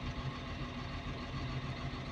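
A Caterpillar 950H wheel loader's engine runs steadily with a low, rumbling idle, heard up close and continuously with no talk.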